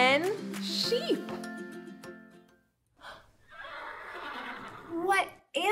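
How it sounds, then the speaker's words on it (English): A horse whinnies loudly and close, a long quavering neigh, followed by a pause, a breathy burst and a shorter second whinny near the end. "Yeah, a horse says neigh."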